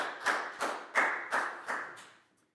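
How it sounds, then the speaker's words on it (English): A classroom of Year 4 pupils clapping for a classmate during a maths lesson: five or six separate bursts of claps in a slightly uneven rhythm, fairly close and moderate in volume, fading out at the end. "High five and a big round of applause for Pat, please, guys."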